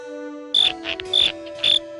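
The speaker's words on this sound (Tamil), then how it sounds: "இந்த மாதிரி ஒரு வினோதமான வெட்டுக்கிளிய நான் பார்த்ததே இல்ல." A strange cartoon grasshopper gives three bright, shrill chirps in short bursts about half a second apart, each sharp and close over a steady tonal background hum.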